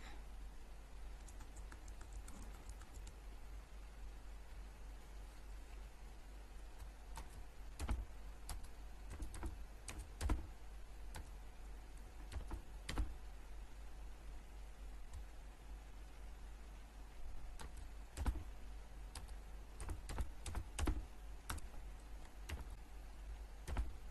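Keys clatter on a computer keyboard while a password is entered, a steady patter of quiet taps punctuated by a few sharper, louder keystrokes, close and alone over faint background hiss.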